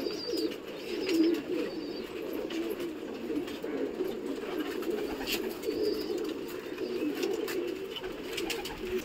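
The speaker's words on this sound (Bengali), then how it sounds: "ছাড়তেই পায়রা ঝাঁক নিয়ে একসঙ্গে নিজের মতন উড়ছে" Pigeons coo continuously in low, overlapping murmurs after a flock is released outdoors, close and steady throughout, with faint higher chirps and light rustling mixed in and no speech.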